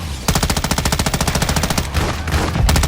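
Sustained machine gun fire in the video game Call of Duty, a rapid, loud, evenly spaced burst of shots that breaks briefly and resumes, with no talk over it.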